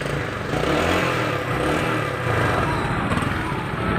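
A quiet Suzuki Vega Force motorcycle engine idles steadily with a low, even hum and faint mechanical clatter, fairly close, with no talking.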